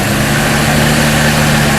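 A car engine idles just after starting, a loud, constant, rough drone with a steady low throb and no pauses or voices.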